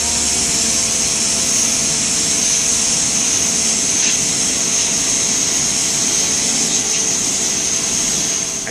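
A SunJoe pressure washer fitted with a narrow jet nozzle blasting ingrained dirt, giving a steady, loud, unbroken high hiss and roar that holds constant from start to finish with no talking.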